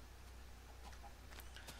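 Chickens clucking in the Minecraft video game, a few short, soft game-sound clucks over a steady low background hum, with no talking.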